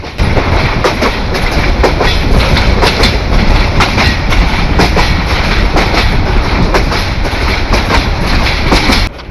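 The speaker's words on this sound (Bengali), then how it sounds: "রাতের বেলা ময়মনসিংহ সেকশনের ট্র্যাক সাউন্ড উপভোগ করুন।" Train wheels rolling over track joints at night on the Mymensingh section aboard the Mohanganj Express, a loud continuous roar with rapid irregular clickety-clack beats heard from inside the carriage, no talk.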